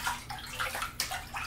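A baby named Miles splashes in bathtub water, making soft, close sloshing and dripping sounds at a low level.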